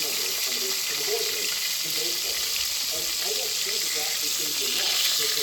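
Venison backstrap frying in peanut oil, a constant bright sizzle with a voice talking over it.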